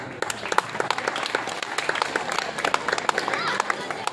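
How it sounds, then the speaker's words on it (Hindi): Audience clapping at a results-distribution ceremony: scattered, uneven claps run steadily for a few seconds at moderate level, with voices murmuring underneath. "ताली बजा दो भाई"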